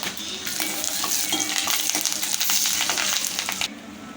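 A spoon scrapes and stirs spices through a sizzling frying pan, the crackle and hiss steady and close with no voices.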